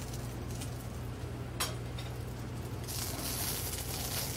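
Cabbage, turnips and mushrooms being stirred in a hot pan: a steady sizzle with soft scraping and a brief clink of utensil against the pan, the frying hiss growing louder toward the end.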